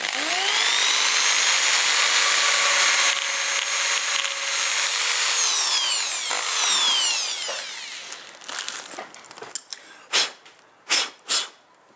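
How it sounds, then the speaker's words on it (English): A power drill whines loudly and steadily as it bores two holes through a metal plate, then slows and stutters, ending with a few short separate bursts. "get my drill and drill 2 holes through the middle of those holes in the plate"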